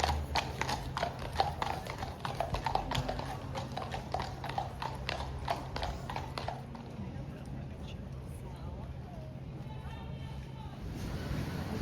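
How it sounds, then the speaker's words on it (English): Police horses on a London street clip-clop past, hooves striking in a brisk, regular rhythm for about six seconds before fading away into soft street ambience and a faint hum. "horses going past."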